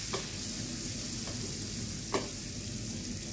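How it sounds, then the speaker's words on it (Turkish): A mixture browning in melted margarine in a pan for a milk dessert, a steady, close sizzle with a couple of light spoon scrapes as it is stirred, no voices. "Sürekli karıştırıyorum."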